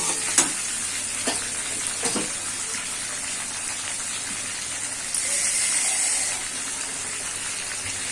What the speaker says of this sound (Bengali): এবার আমি ভালো করে সব মশলাগুলোকে কষিয়ে নেব।